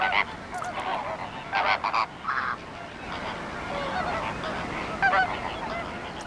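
Flamingos in a brackish lagoon call in loud, honking goose-like bursts, overlapping clusters of nasal cries rising over a steady colony din throughout.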